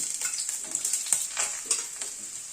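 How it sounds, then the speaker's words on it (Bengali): Potato pieces fry in oil for a chicken curry, a light sizzle broken by repeated scraping stirs of a spatula against the pan. "আলুটা একটু ভেজে নিচ্ছি"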